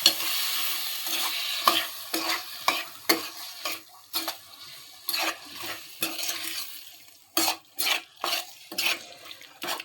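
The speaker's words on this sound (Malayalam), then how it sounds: "ഇനി നമുക്ക് നല്ലതായിട്ടൊന്ന് ഇളക്കി ഇവനെ അങ്ങ് സെറ്റാക്കി എടുക്കാം" Liver for a liver roast is stirred in a hot pan, making repeated scraping strokes in a steady rhythm over a soft sizzle of frying, close and with no talk.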